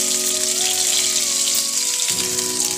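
Sliced onions fry in hot mustard oil in a kadai. A steady, close sizzle hisses evenly throughout, with no voices.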